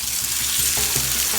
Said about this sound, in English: We want to hear a sizzle.